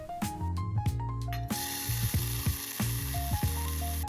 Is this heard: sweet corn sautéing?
yes